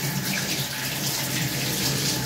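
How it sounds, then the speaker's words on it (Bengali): Water runs steadily from a kitchen tap as two potatoes are rinsed beneath it, a close, continuous splashing hiss with no pauses. "এই দুটো আলুকে আমি ধুয়ে নেব"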